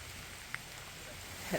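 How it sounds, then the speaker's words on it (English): Steady rain falls on a wet road near a Michigan golf course, a continuous soft hiss with a couple of faint drop taps, heard alone. "The rain has come down a little bit heavier."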